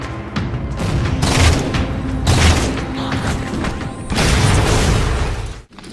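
Anti-aircraft guns are destroyed in the Halo 4 video game, with loud rolling explosions, booming blasts and crashing debris that pile up in dense waves across the whole stretch and no voices.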